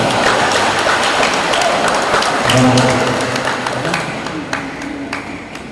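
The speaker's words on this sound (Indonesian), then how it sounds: "Tepuk tangan." Applause from a church youth gathering at a parish welcoming the Sumatra Youth Day cross, a dense wash of many hands clapping that fades gradually over several seconds.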